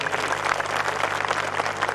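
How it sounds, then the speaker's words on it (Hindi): Loud audience applause for dancers who have just performed in a thin-air, low-oxygen setting, a dense steady wash of many hands clapping throughout with a low hum underneath. "एक बार उनके लिए जोरदार तालियां हो जाएं"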